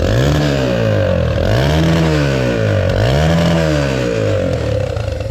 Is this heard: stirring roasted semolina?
no